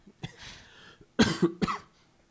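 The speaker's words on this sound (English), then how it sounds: "sorry about the cough" A person coughs in short, harsh bursts: one soft cough, then a louder pair of coughs close together, near and isolated with no talking.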